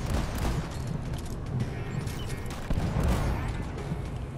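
Sniper turrets in Deep Rock Galactic fire in repeated sharp bursts of gunfire amid dense, noisy cave combat, fairly loud and continuous.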